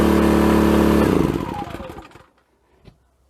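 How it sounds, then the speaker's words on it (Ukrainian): A Fogo F4001i inverter generator running under a 3 kW load gives a loud, steady engine drone that fades out over about two seconds, leaving near silence with a faint knock. "При такому навантаженні генератор не ковбасить."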